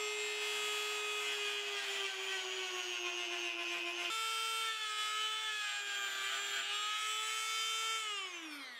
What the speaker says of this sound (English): taking out the little lip on the inside here with the Dremel